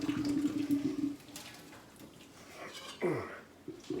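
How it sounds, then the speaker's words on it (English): Cooked carrots are drained in a kitchen as hot water pours out in a short rushing burst, followed by quieter splashes and a brief gurgling pour near the end. "Drain our carrots."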